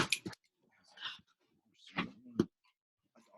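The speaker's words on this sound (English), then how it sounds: "dogs are going crazy right now." Dogs bark in short, sharp bursts nearby, a few scattered yelps spread across a few seconds with quiet gaps between them.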